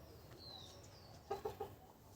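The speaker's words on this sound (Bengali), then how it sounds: "আর এই যে দেশি মুরগিগুলো।" Desi hens give three short, soft clucks in quick succession, faint and nearby, after a quiet stretch with a thin high bird note.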